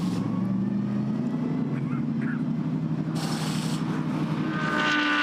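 GT racing cars, including Rover Racing Porsches, run on the Silverstone circuit during Blancpain GT Series Endurance qualifying. A steady distant engine drone continues throughout, with a brighter surge of a passing car midway, under a commentator's voice.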